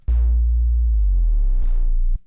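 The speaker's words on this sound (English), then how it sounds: "If I put in a pitch bend, I can make it bend down to connect with that note." Loud synthesized tone holding a steady note with rich harmonics, then gliding smoothly downward into a second note through a pitch bend before cutting off, played alone.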